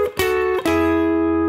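Rhythm-and-blues pentatonic chordal riff on electric guitar, played plainly without a slide: two sharp strummed chord attacks followed by a sustained, ringing chord, played alone at steady loudness.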